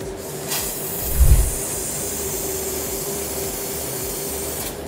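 A HÉRCULES laser cutter slices through 4 cm solid black steel with a steady, loud hissing roar and a steady tonal hum, and a brief low thump near the start.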